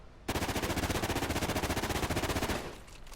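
Rapid automatic gunfire in Call of Duty: Ghosts, one sustained loud burst of evenly spaced shots lasting a little over two seconds, then fading, with no talk.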